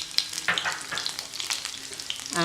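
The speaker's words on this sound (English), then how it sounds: "Nice sizzle" Oil sizzles and crackles steadily in a hot pan with spring onions during a Chinese stir fry, with scraping stir sounds and no talking.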